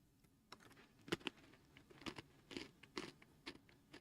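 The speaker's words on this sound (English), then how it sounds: "Chad will almost be able to hear me chewing on my pretzels because the microphone is so close" Pretzels being chewed right up against a microphone, giving a string of crisp, close crunches and bites at an irregular pace over a quiet background.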